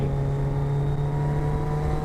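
Steady engine drone from inside a road-legal Porsche Cayman GT4 Clubsport race car on the move, holding an even, constant note throughout.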